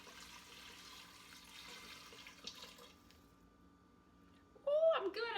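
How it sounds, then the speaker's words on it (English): Two cups of water pour in a steady, hissing stream for plant-based cornbread dressing. A short burst of louder sound comes at the end. "Actually, I'm going to use 2 cups of water here."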